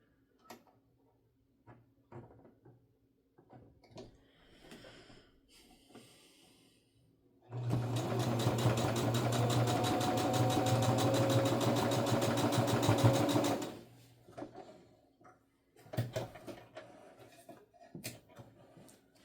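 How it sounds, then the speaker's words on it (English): A sewing machine redoes a stitch line on a handmade makeup bag, running as one steady, loud burst of about six seconds between quieter handling sounds. "Okay, so I'm going to redo this stitch line real quick here."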